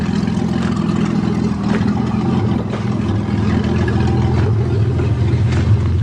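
A 1982 Toyota Cressida cruises along the road, its engine giving a steady, loud, droning rumble with road and wind noise throughout, no talking.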